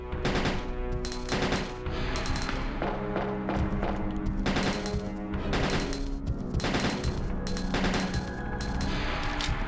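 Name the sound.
loud thumping footsteps in Resident Evil 2 video game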